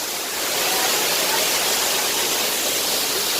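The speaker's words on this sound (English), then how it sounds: "Now this is the Bambarakanda Falls and this is 863 feet in height." Bambarakanda Falls in Sri Lanka, an 863-foot waterfall, roars as a steady, dense broadband rush of falling water with no breaks, heard up close and loud throughout.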